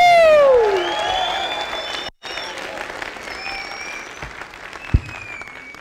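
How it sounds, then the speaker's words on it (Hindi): Loud, enthusiastic applause from an audience at a network marketing seminar in India, dense clapping that swells at the start, then settles into steady sustained clapping with some whistles, easing off toward the end. "बजाइए सर एक बारी जोरदार तालियां"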